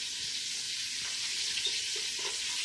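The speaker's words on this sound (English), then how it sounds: "We're going to drop those right in that bacon grease. You hear that? I love that sound." Red onions drop into hot bacon grease in a pan and give a steady, close sizzle with a faint crackle throughout, with no voices over it.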